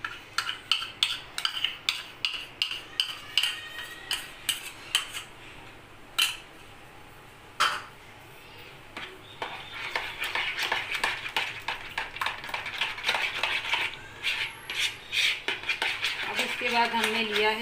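A utensil scrapes and clinks rhythmically against a bowl as blended mango is stirred into thick curd, with a brief pause before steady mixing resumes.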